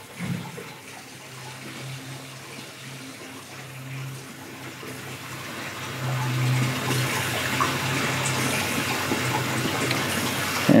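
Water rushes through a sanitary pressure control system as the flow rate is raised, a hissing, gushing stream that grows louder and brighter partway through, with a faint low hum beneath and no talking.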